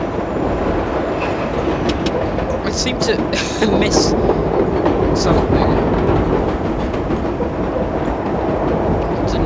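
A New York subway train in World of Subways rolls along with rhythmic clickety-clack, jolting over points, while someone talks over the steady rumble.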